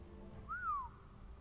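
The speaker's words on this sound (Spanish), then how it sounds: "Me encanta el silbidito." A single soft rising-then-falling whistle in the game Godfall, one short tonal glide heard faintly over a quiet low ambient background.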